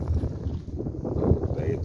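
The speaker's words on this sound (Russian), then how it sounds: "противный такой ветер. Прохладный такой, режущий лицо чуть-чуть, такой холодом." Cold, cutting early-morning wind at about plus three degrees blows across the microphone outdoors beside a Daewoo Matiz, a steady low buffeting rumble heard alone without speech.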